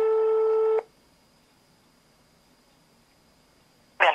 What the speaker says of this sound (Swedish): Ditt samtal kopplas nu till telefonist.